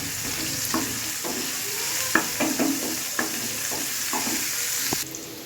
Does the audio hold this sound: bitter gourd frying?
yes